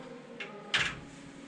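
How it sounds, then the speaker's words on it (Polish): A glass bathroom door in a hotel room opens with two short, light clacks, the second louder and sharper, against a quiet room background. "szklane drzwi, wchodzimy"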